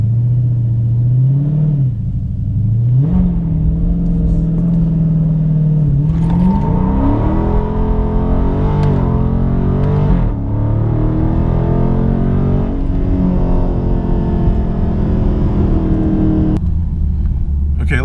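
A car's engine revs hard during a launch control test, climbing and dropping in pitch across a long, loud, steady drone, with a sharp rise midway and throttle spikes near the end.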